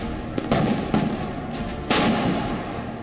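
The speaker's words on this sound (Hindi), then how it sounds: "जंगी जहाजों पर तोपें गरज रही हैं।" Several heavy booming shots from warship naval guns ring out, two close together early and a louder blast later, each with a rolling echoing tail.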